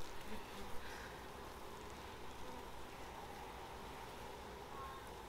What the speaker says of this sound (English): Looks like they're starting to draw that out too by the number of bees on there.